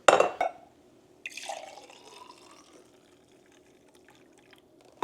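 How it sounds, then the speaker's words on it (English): Chai poured from a vessel into a mug, with a sharp clink at the start, then a soft liquid trickle and splash that fades into quiet, close and fairly faint. "And then we're gonna try to carefully pour it into this mug."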